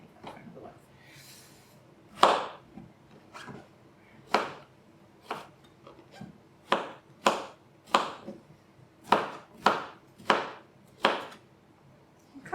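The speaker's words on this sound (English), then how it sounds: "Courgette, nice and easy to chop." A knife chops courgette on a board in about a dozen sharp, close thuds at an uneven, unhurried pace, with faint background noise between strikes.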